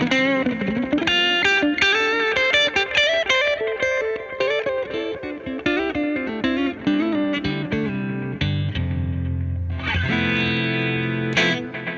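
Electric guitar played through a 1963 Fender Deluxe Reverb amp, a continuous run of picked melodic notes with chords, steady and up front, with a brief denser strummed passage near the end.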